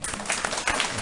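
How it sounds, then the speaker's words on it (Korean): A church congregation applauds in congratulation during a Korean afternoon service. Dense, lively clapping from many people holds fairly steady throughout, with a few slightly sharper individual claps standing out. "미리 축하 박수 좀 드리겠습니다"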